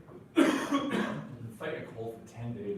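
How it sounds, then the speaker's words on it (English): A couple of harsh coughs up close from someone with a cold, followed by a softer throat-clearing sound, with some faint background murmur. "it's all the talking, it's making you cough."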